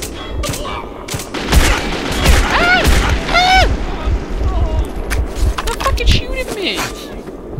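Loud, dense gunfire and booming blasts in Metro: Last Light, continuous rapid shots throughout, with shouting voices over the top.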